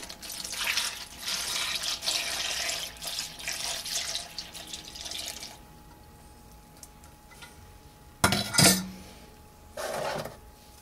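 Cooled soy sauce brine for Korean cucumber pickle (oi jangajji) is poured back over cucumbers in a container, giving a steady liquid splash for about five seconds, then quiet, a sharp clatter and a brief second pour.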